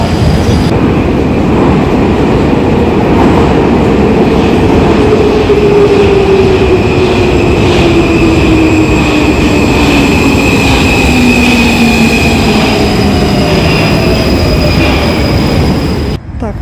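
Moscow metro train riding underground: a loud, steady rumble of rail wheels with a long squealing tone sliding through the middle, continuous and close, with no talk.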